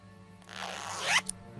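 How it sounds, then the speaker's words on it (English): A short zipper sound effect from the Tex Murphy video game: a stuck zipper on a cushion gives one quick rasping tug that swells and cuts off, followed by a small click, over a quiet background hum. "The zipper on this cushion's stuck."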